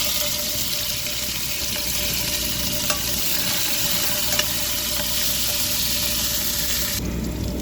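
Chopped onion and curry leaves sauté in oil with mustard seeds for a snake gourd and chana dal kootu, a continuous close sizzle with a few light clicks of stirring, ending abruptly.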